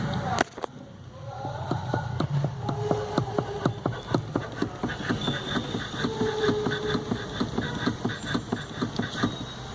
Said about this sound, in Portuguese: Esse barulho tá vindo na coluna de direção.